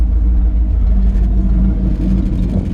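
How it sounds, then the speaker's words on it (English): A 1956 Ford F100 truck exhaust rumbles loud and deep at close range, a steady low throb from an idling engine with no voices. "Great sounding exhaust"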